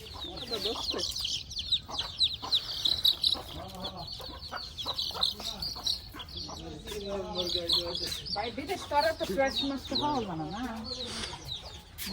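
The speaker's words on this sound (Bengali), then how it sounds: "আর এখানে দুইটা হাঁস এই দুইটা হাঁস নিয়ে আসছি" Two ducks brought home from the market give repeated clucking, quacking calls close by, under ongoing talk and household bustle.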